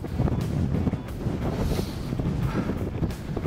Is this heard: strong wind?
yes